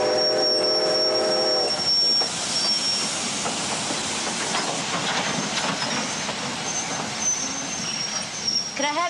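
A train on the Yukon gold rush railway at Bennett rumbles along the tracks with a steady hiss and clatter, a brief whistle-like tone early on, and faint voices in the background.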